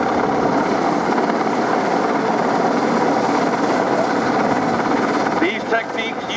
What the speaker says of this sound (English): The venerable Mark IV Sea King hovers in a rock-steady hover about 150 feet